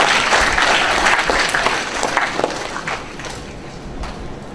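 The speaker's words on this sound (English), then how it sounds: "You don't feel like clapping, huh?" A university audience at Amrita College claps in a dense, steady wash of applause that holds fairly loud, then eases off slightly toward the end.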